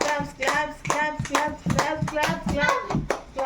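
Players in an indoor handkerchief game clap their hands in a steady, rhythmic beat, with lively voices calling out over the claps at close range.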